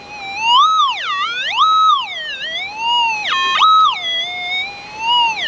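In a dry creek on bedrock, a metal detector gives a loud, wavering electronic tone over a gold find, sweeping up and down in pitch again and again with no talk.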